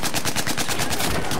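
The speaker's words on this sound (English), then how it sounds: "I was just holding the trigger, hoping you'd run into the bullets." Rapid automatic gunfire in a video game shooting match, a loud, steady stream of shots with the trigger held down, no voices over it.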